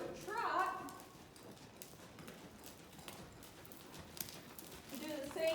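A horse trots on a circle during a balance and collection training session, its hoofbeats a steady faint clip-clop under a voice talking at the start and end.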